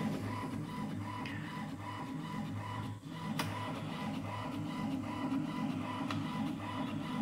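An inkjet printer with a clogged cartridge feeding blank paper, a steady low mechanical whir with soft rhythmic carriage movement and occasional faint clicks, continuous and fairly quiet throughout.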